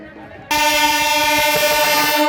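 A train horn blares loudly and steadily at a railway level crossing during a Gangaur festival procession, sounding suddenly after a quieter start and holding for the rest of the clip.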